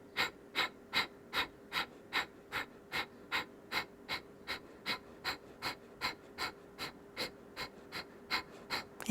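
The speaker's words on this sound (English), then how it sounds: "the exhale is like you're blowing out a candle through your nose" Forceful yoga breaths pushed out sharply through the nose, about two per second in a steady, even rhythm for the whole stretch, each a short, close, hissing puff with no talk over it.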